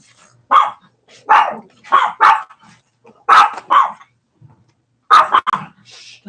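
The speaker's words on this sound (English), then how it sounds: "What are they barking at?" Dogs bark indoors in loud, close bursts, mostly in pairs of sharp barks separated by short quiet gaps.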